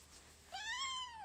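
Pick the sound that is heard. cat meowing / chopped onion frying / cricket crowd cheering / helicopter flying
cat meowing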